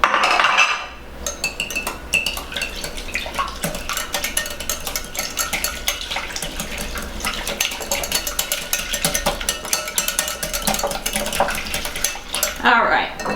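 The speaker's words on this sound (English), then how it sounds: "I'm going to whisk that together." An egg, milk and butter mixture is whisked briskly in a bowl for cinnamon roll donut batter, the utensil clinking rapidly and continuously against the side, close up and with no talking.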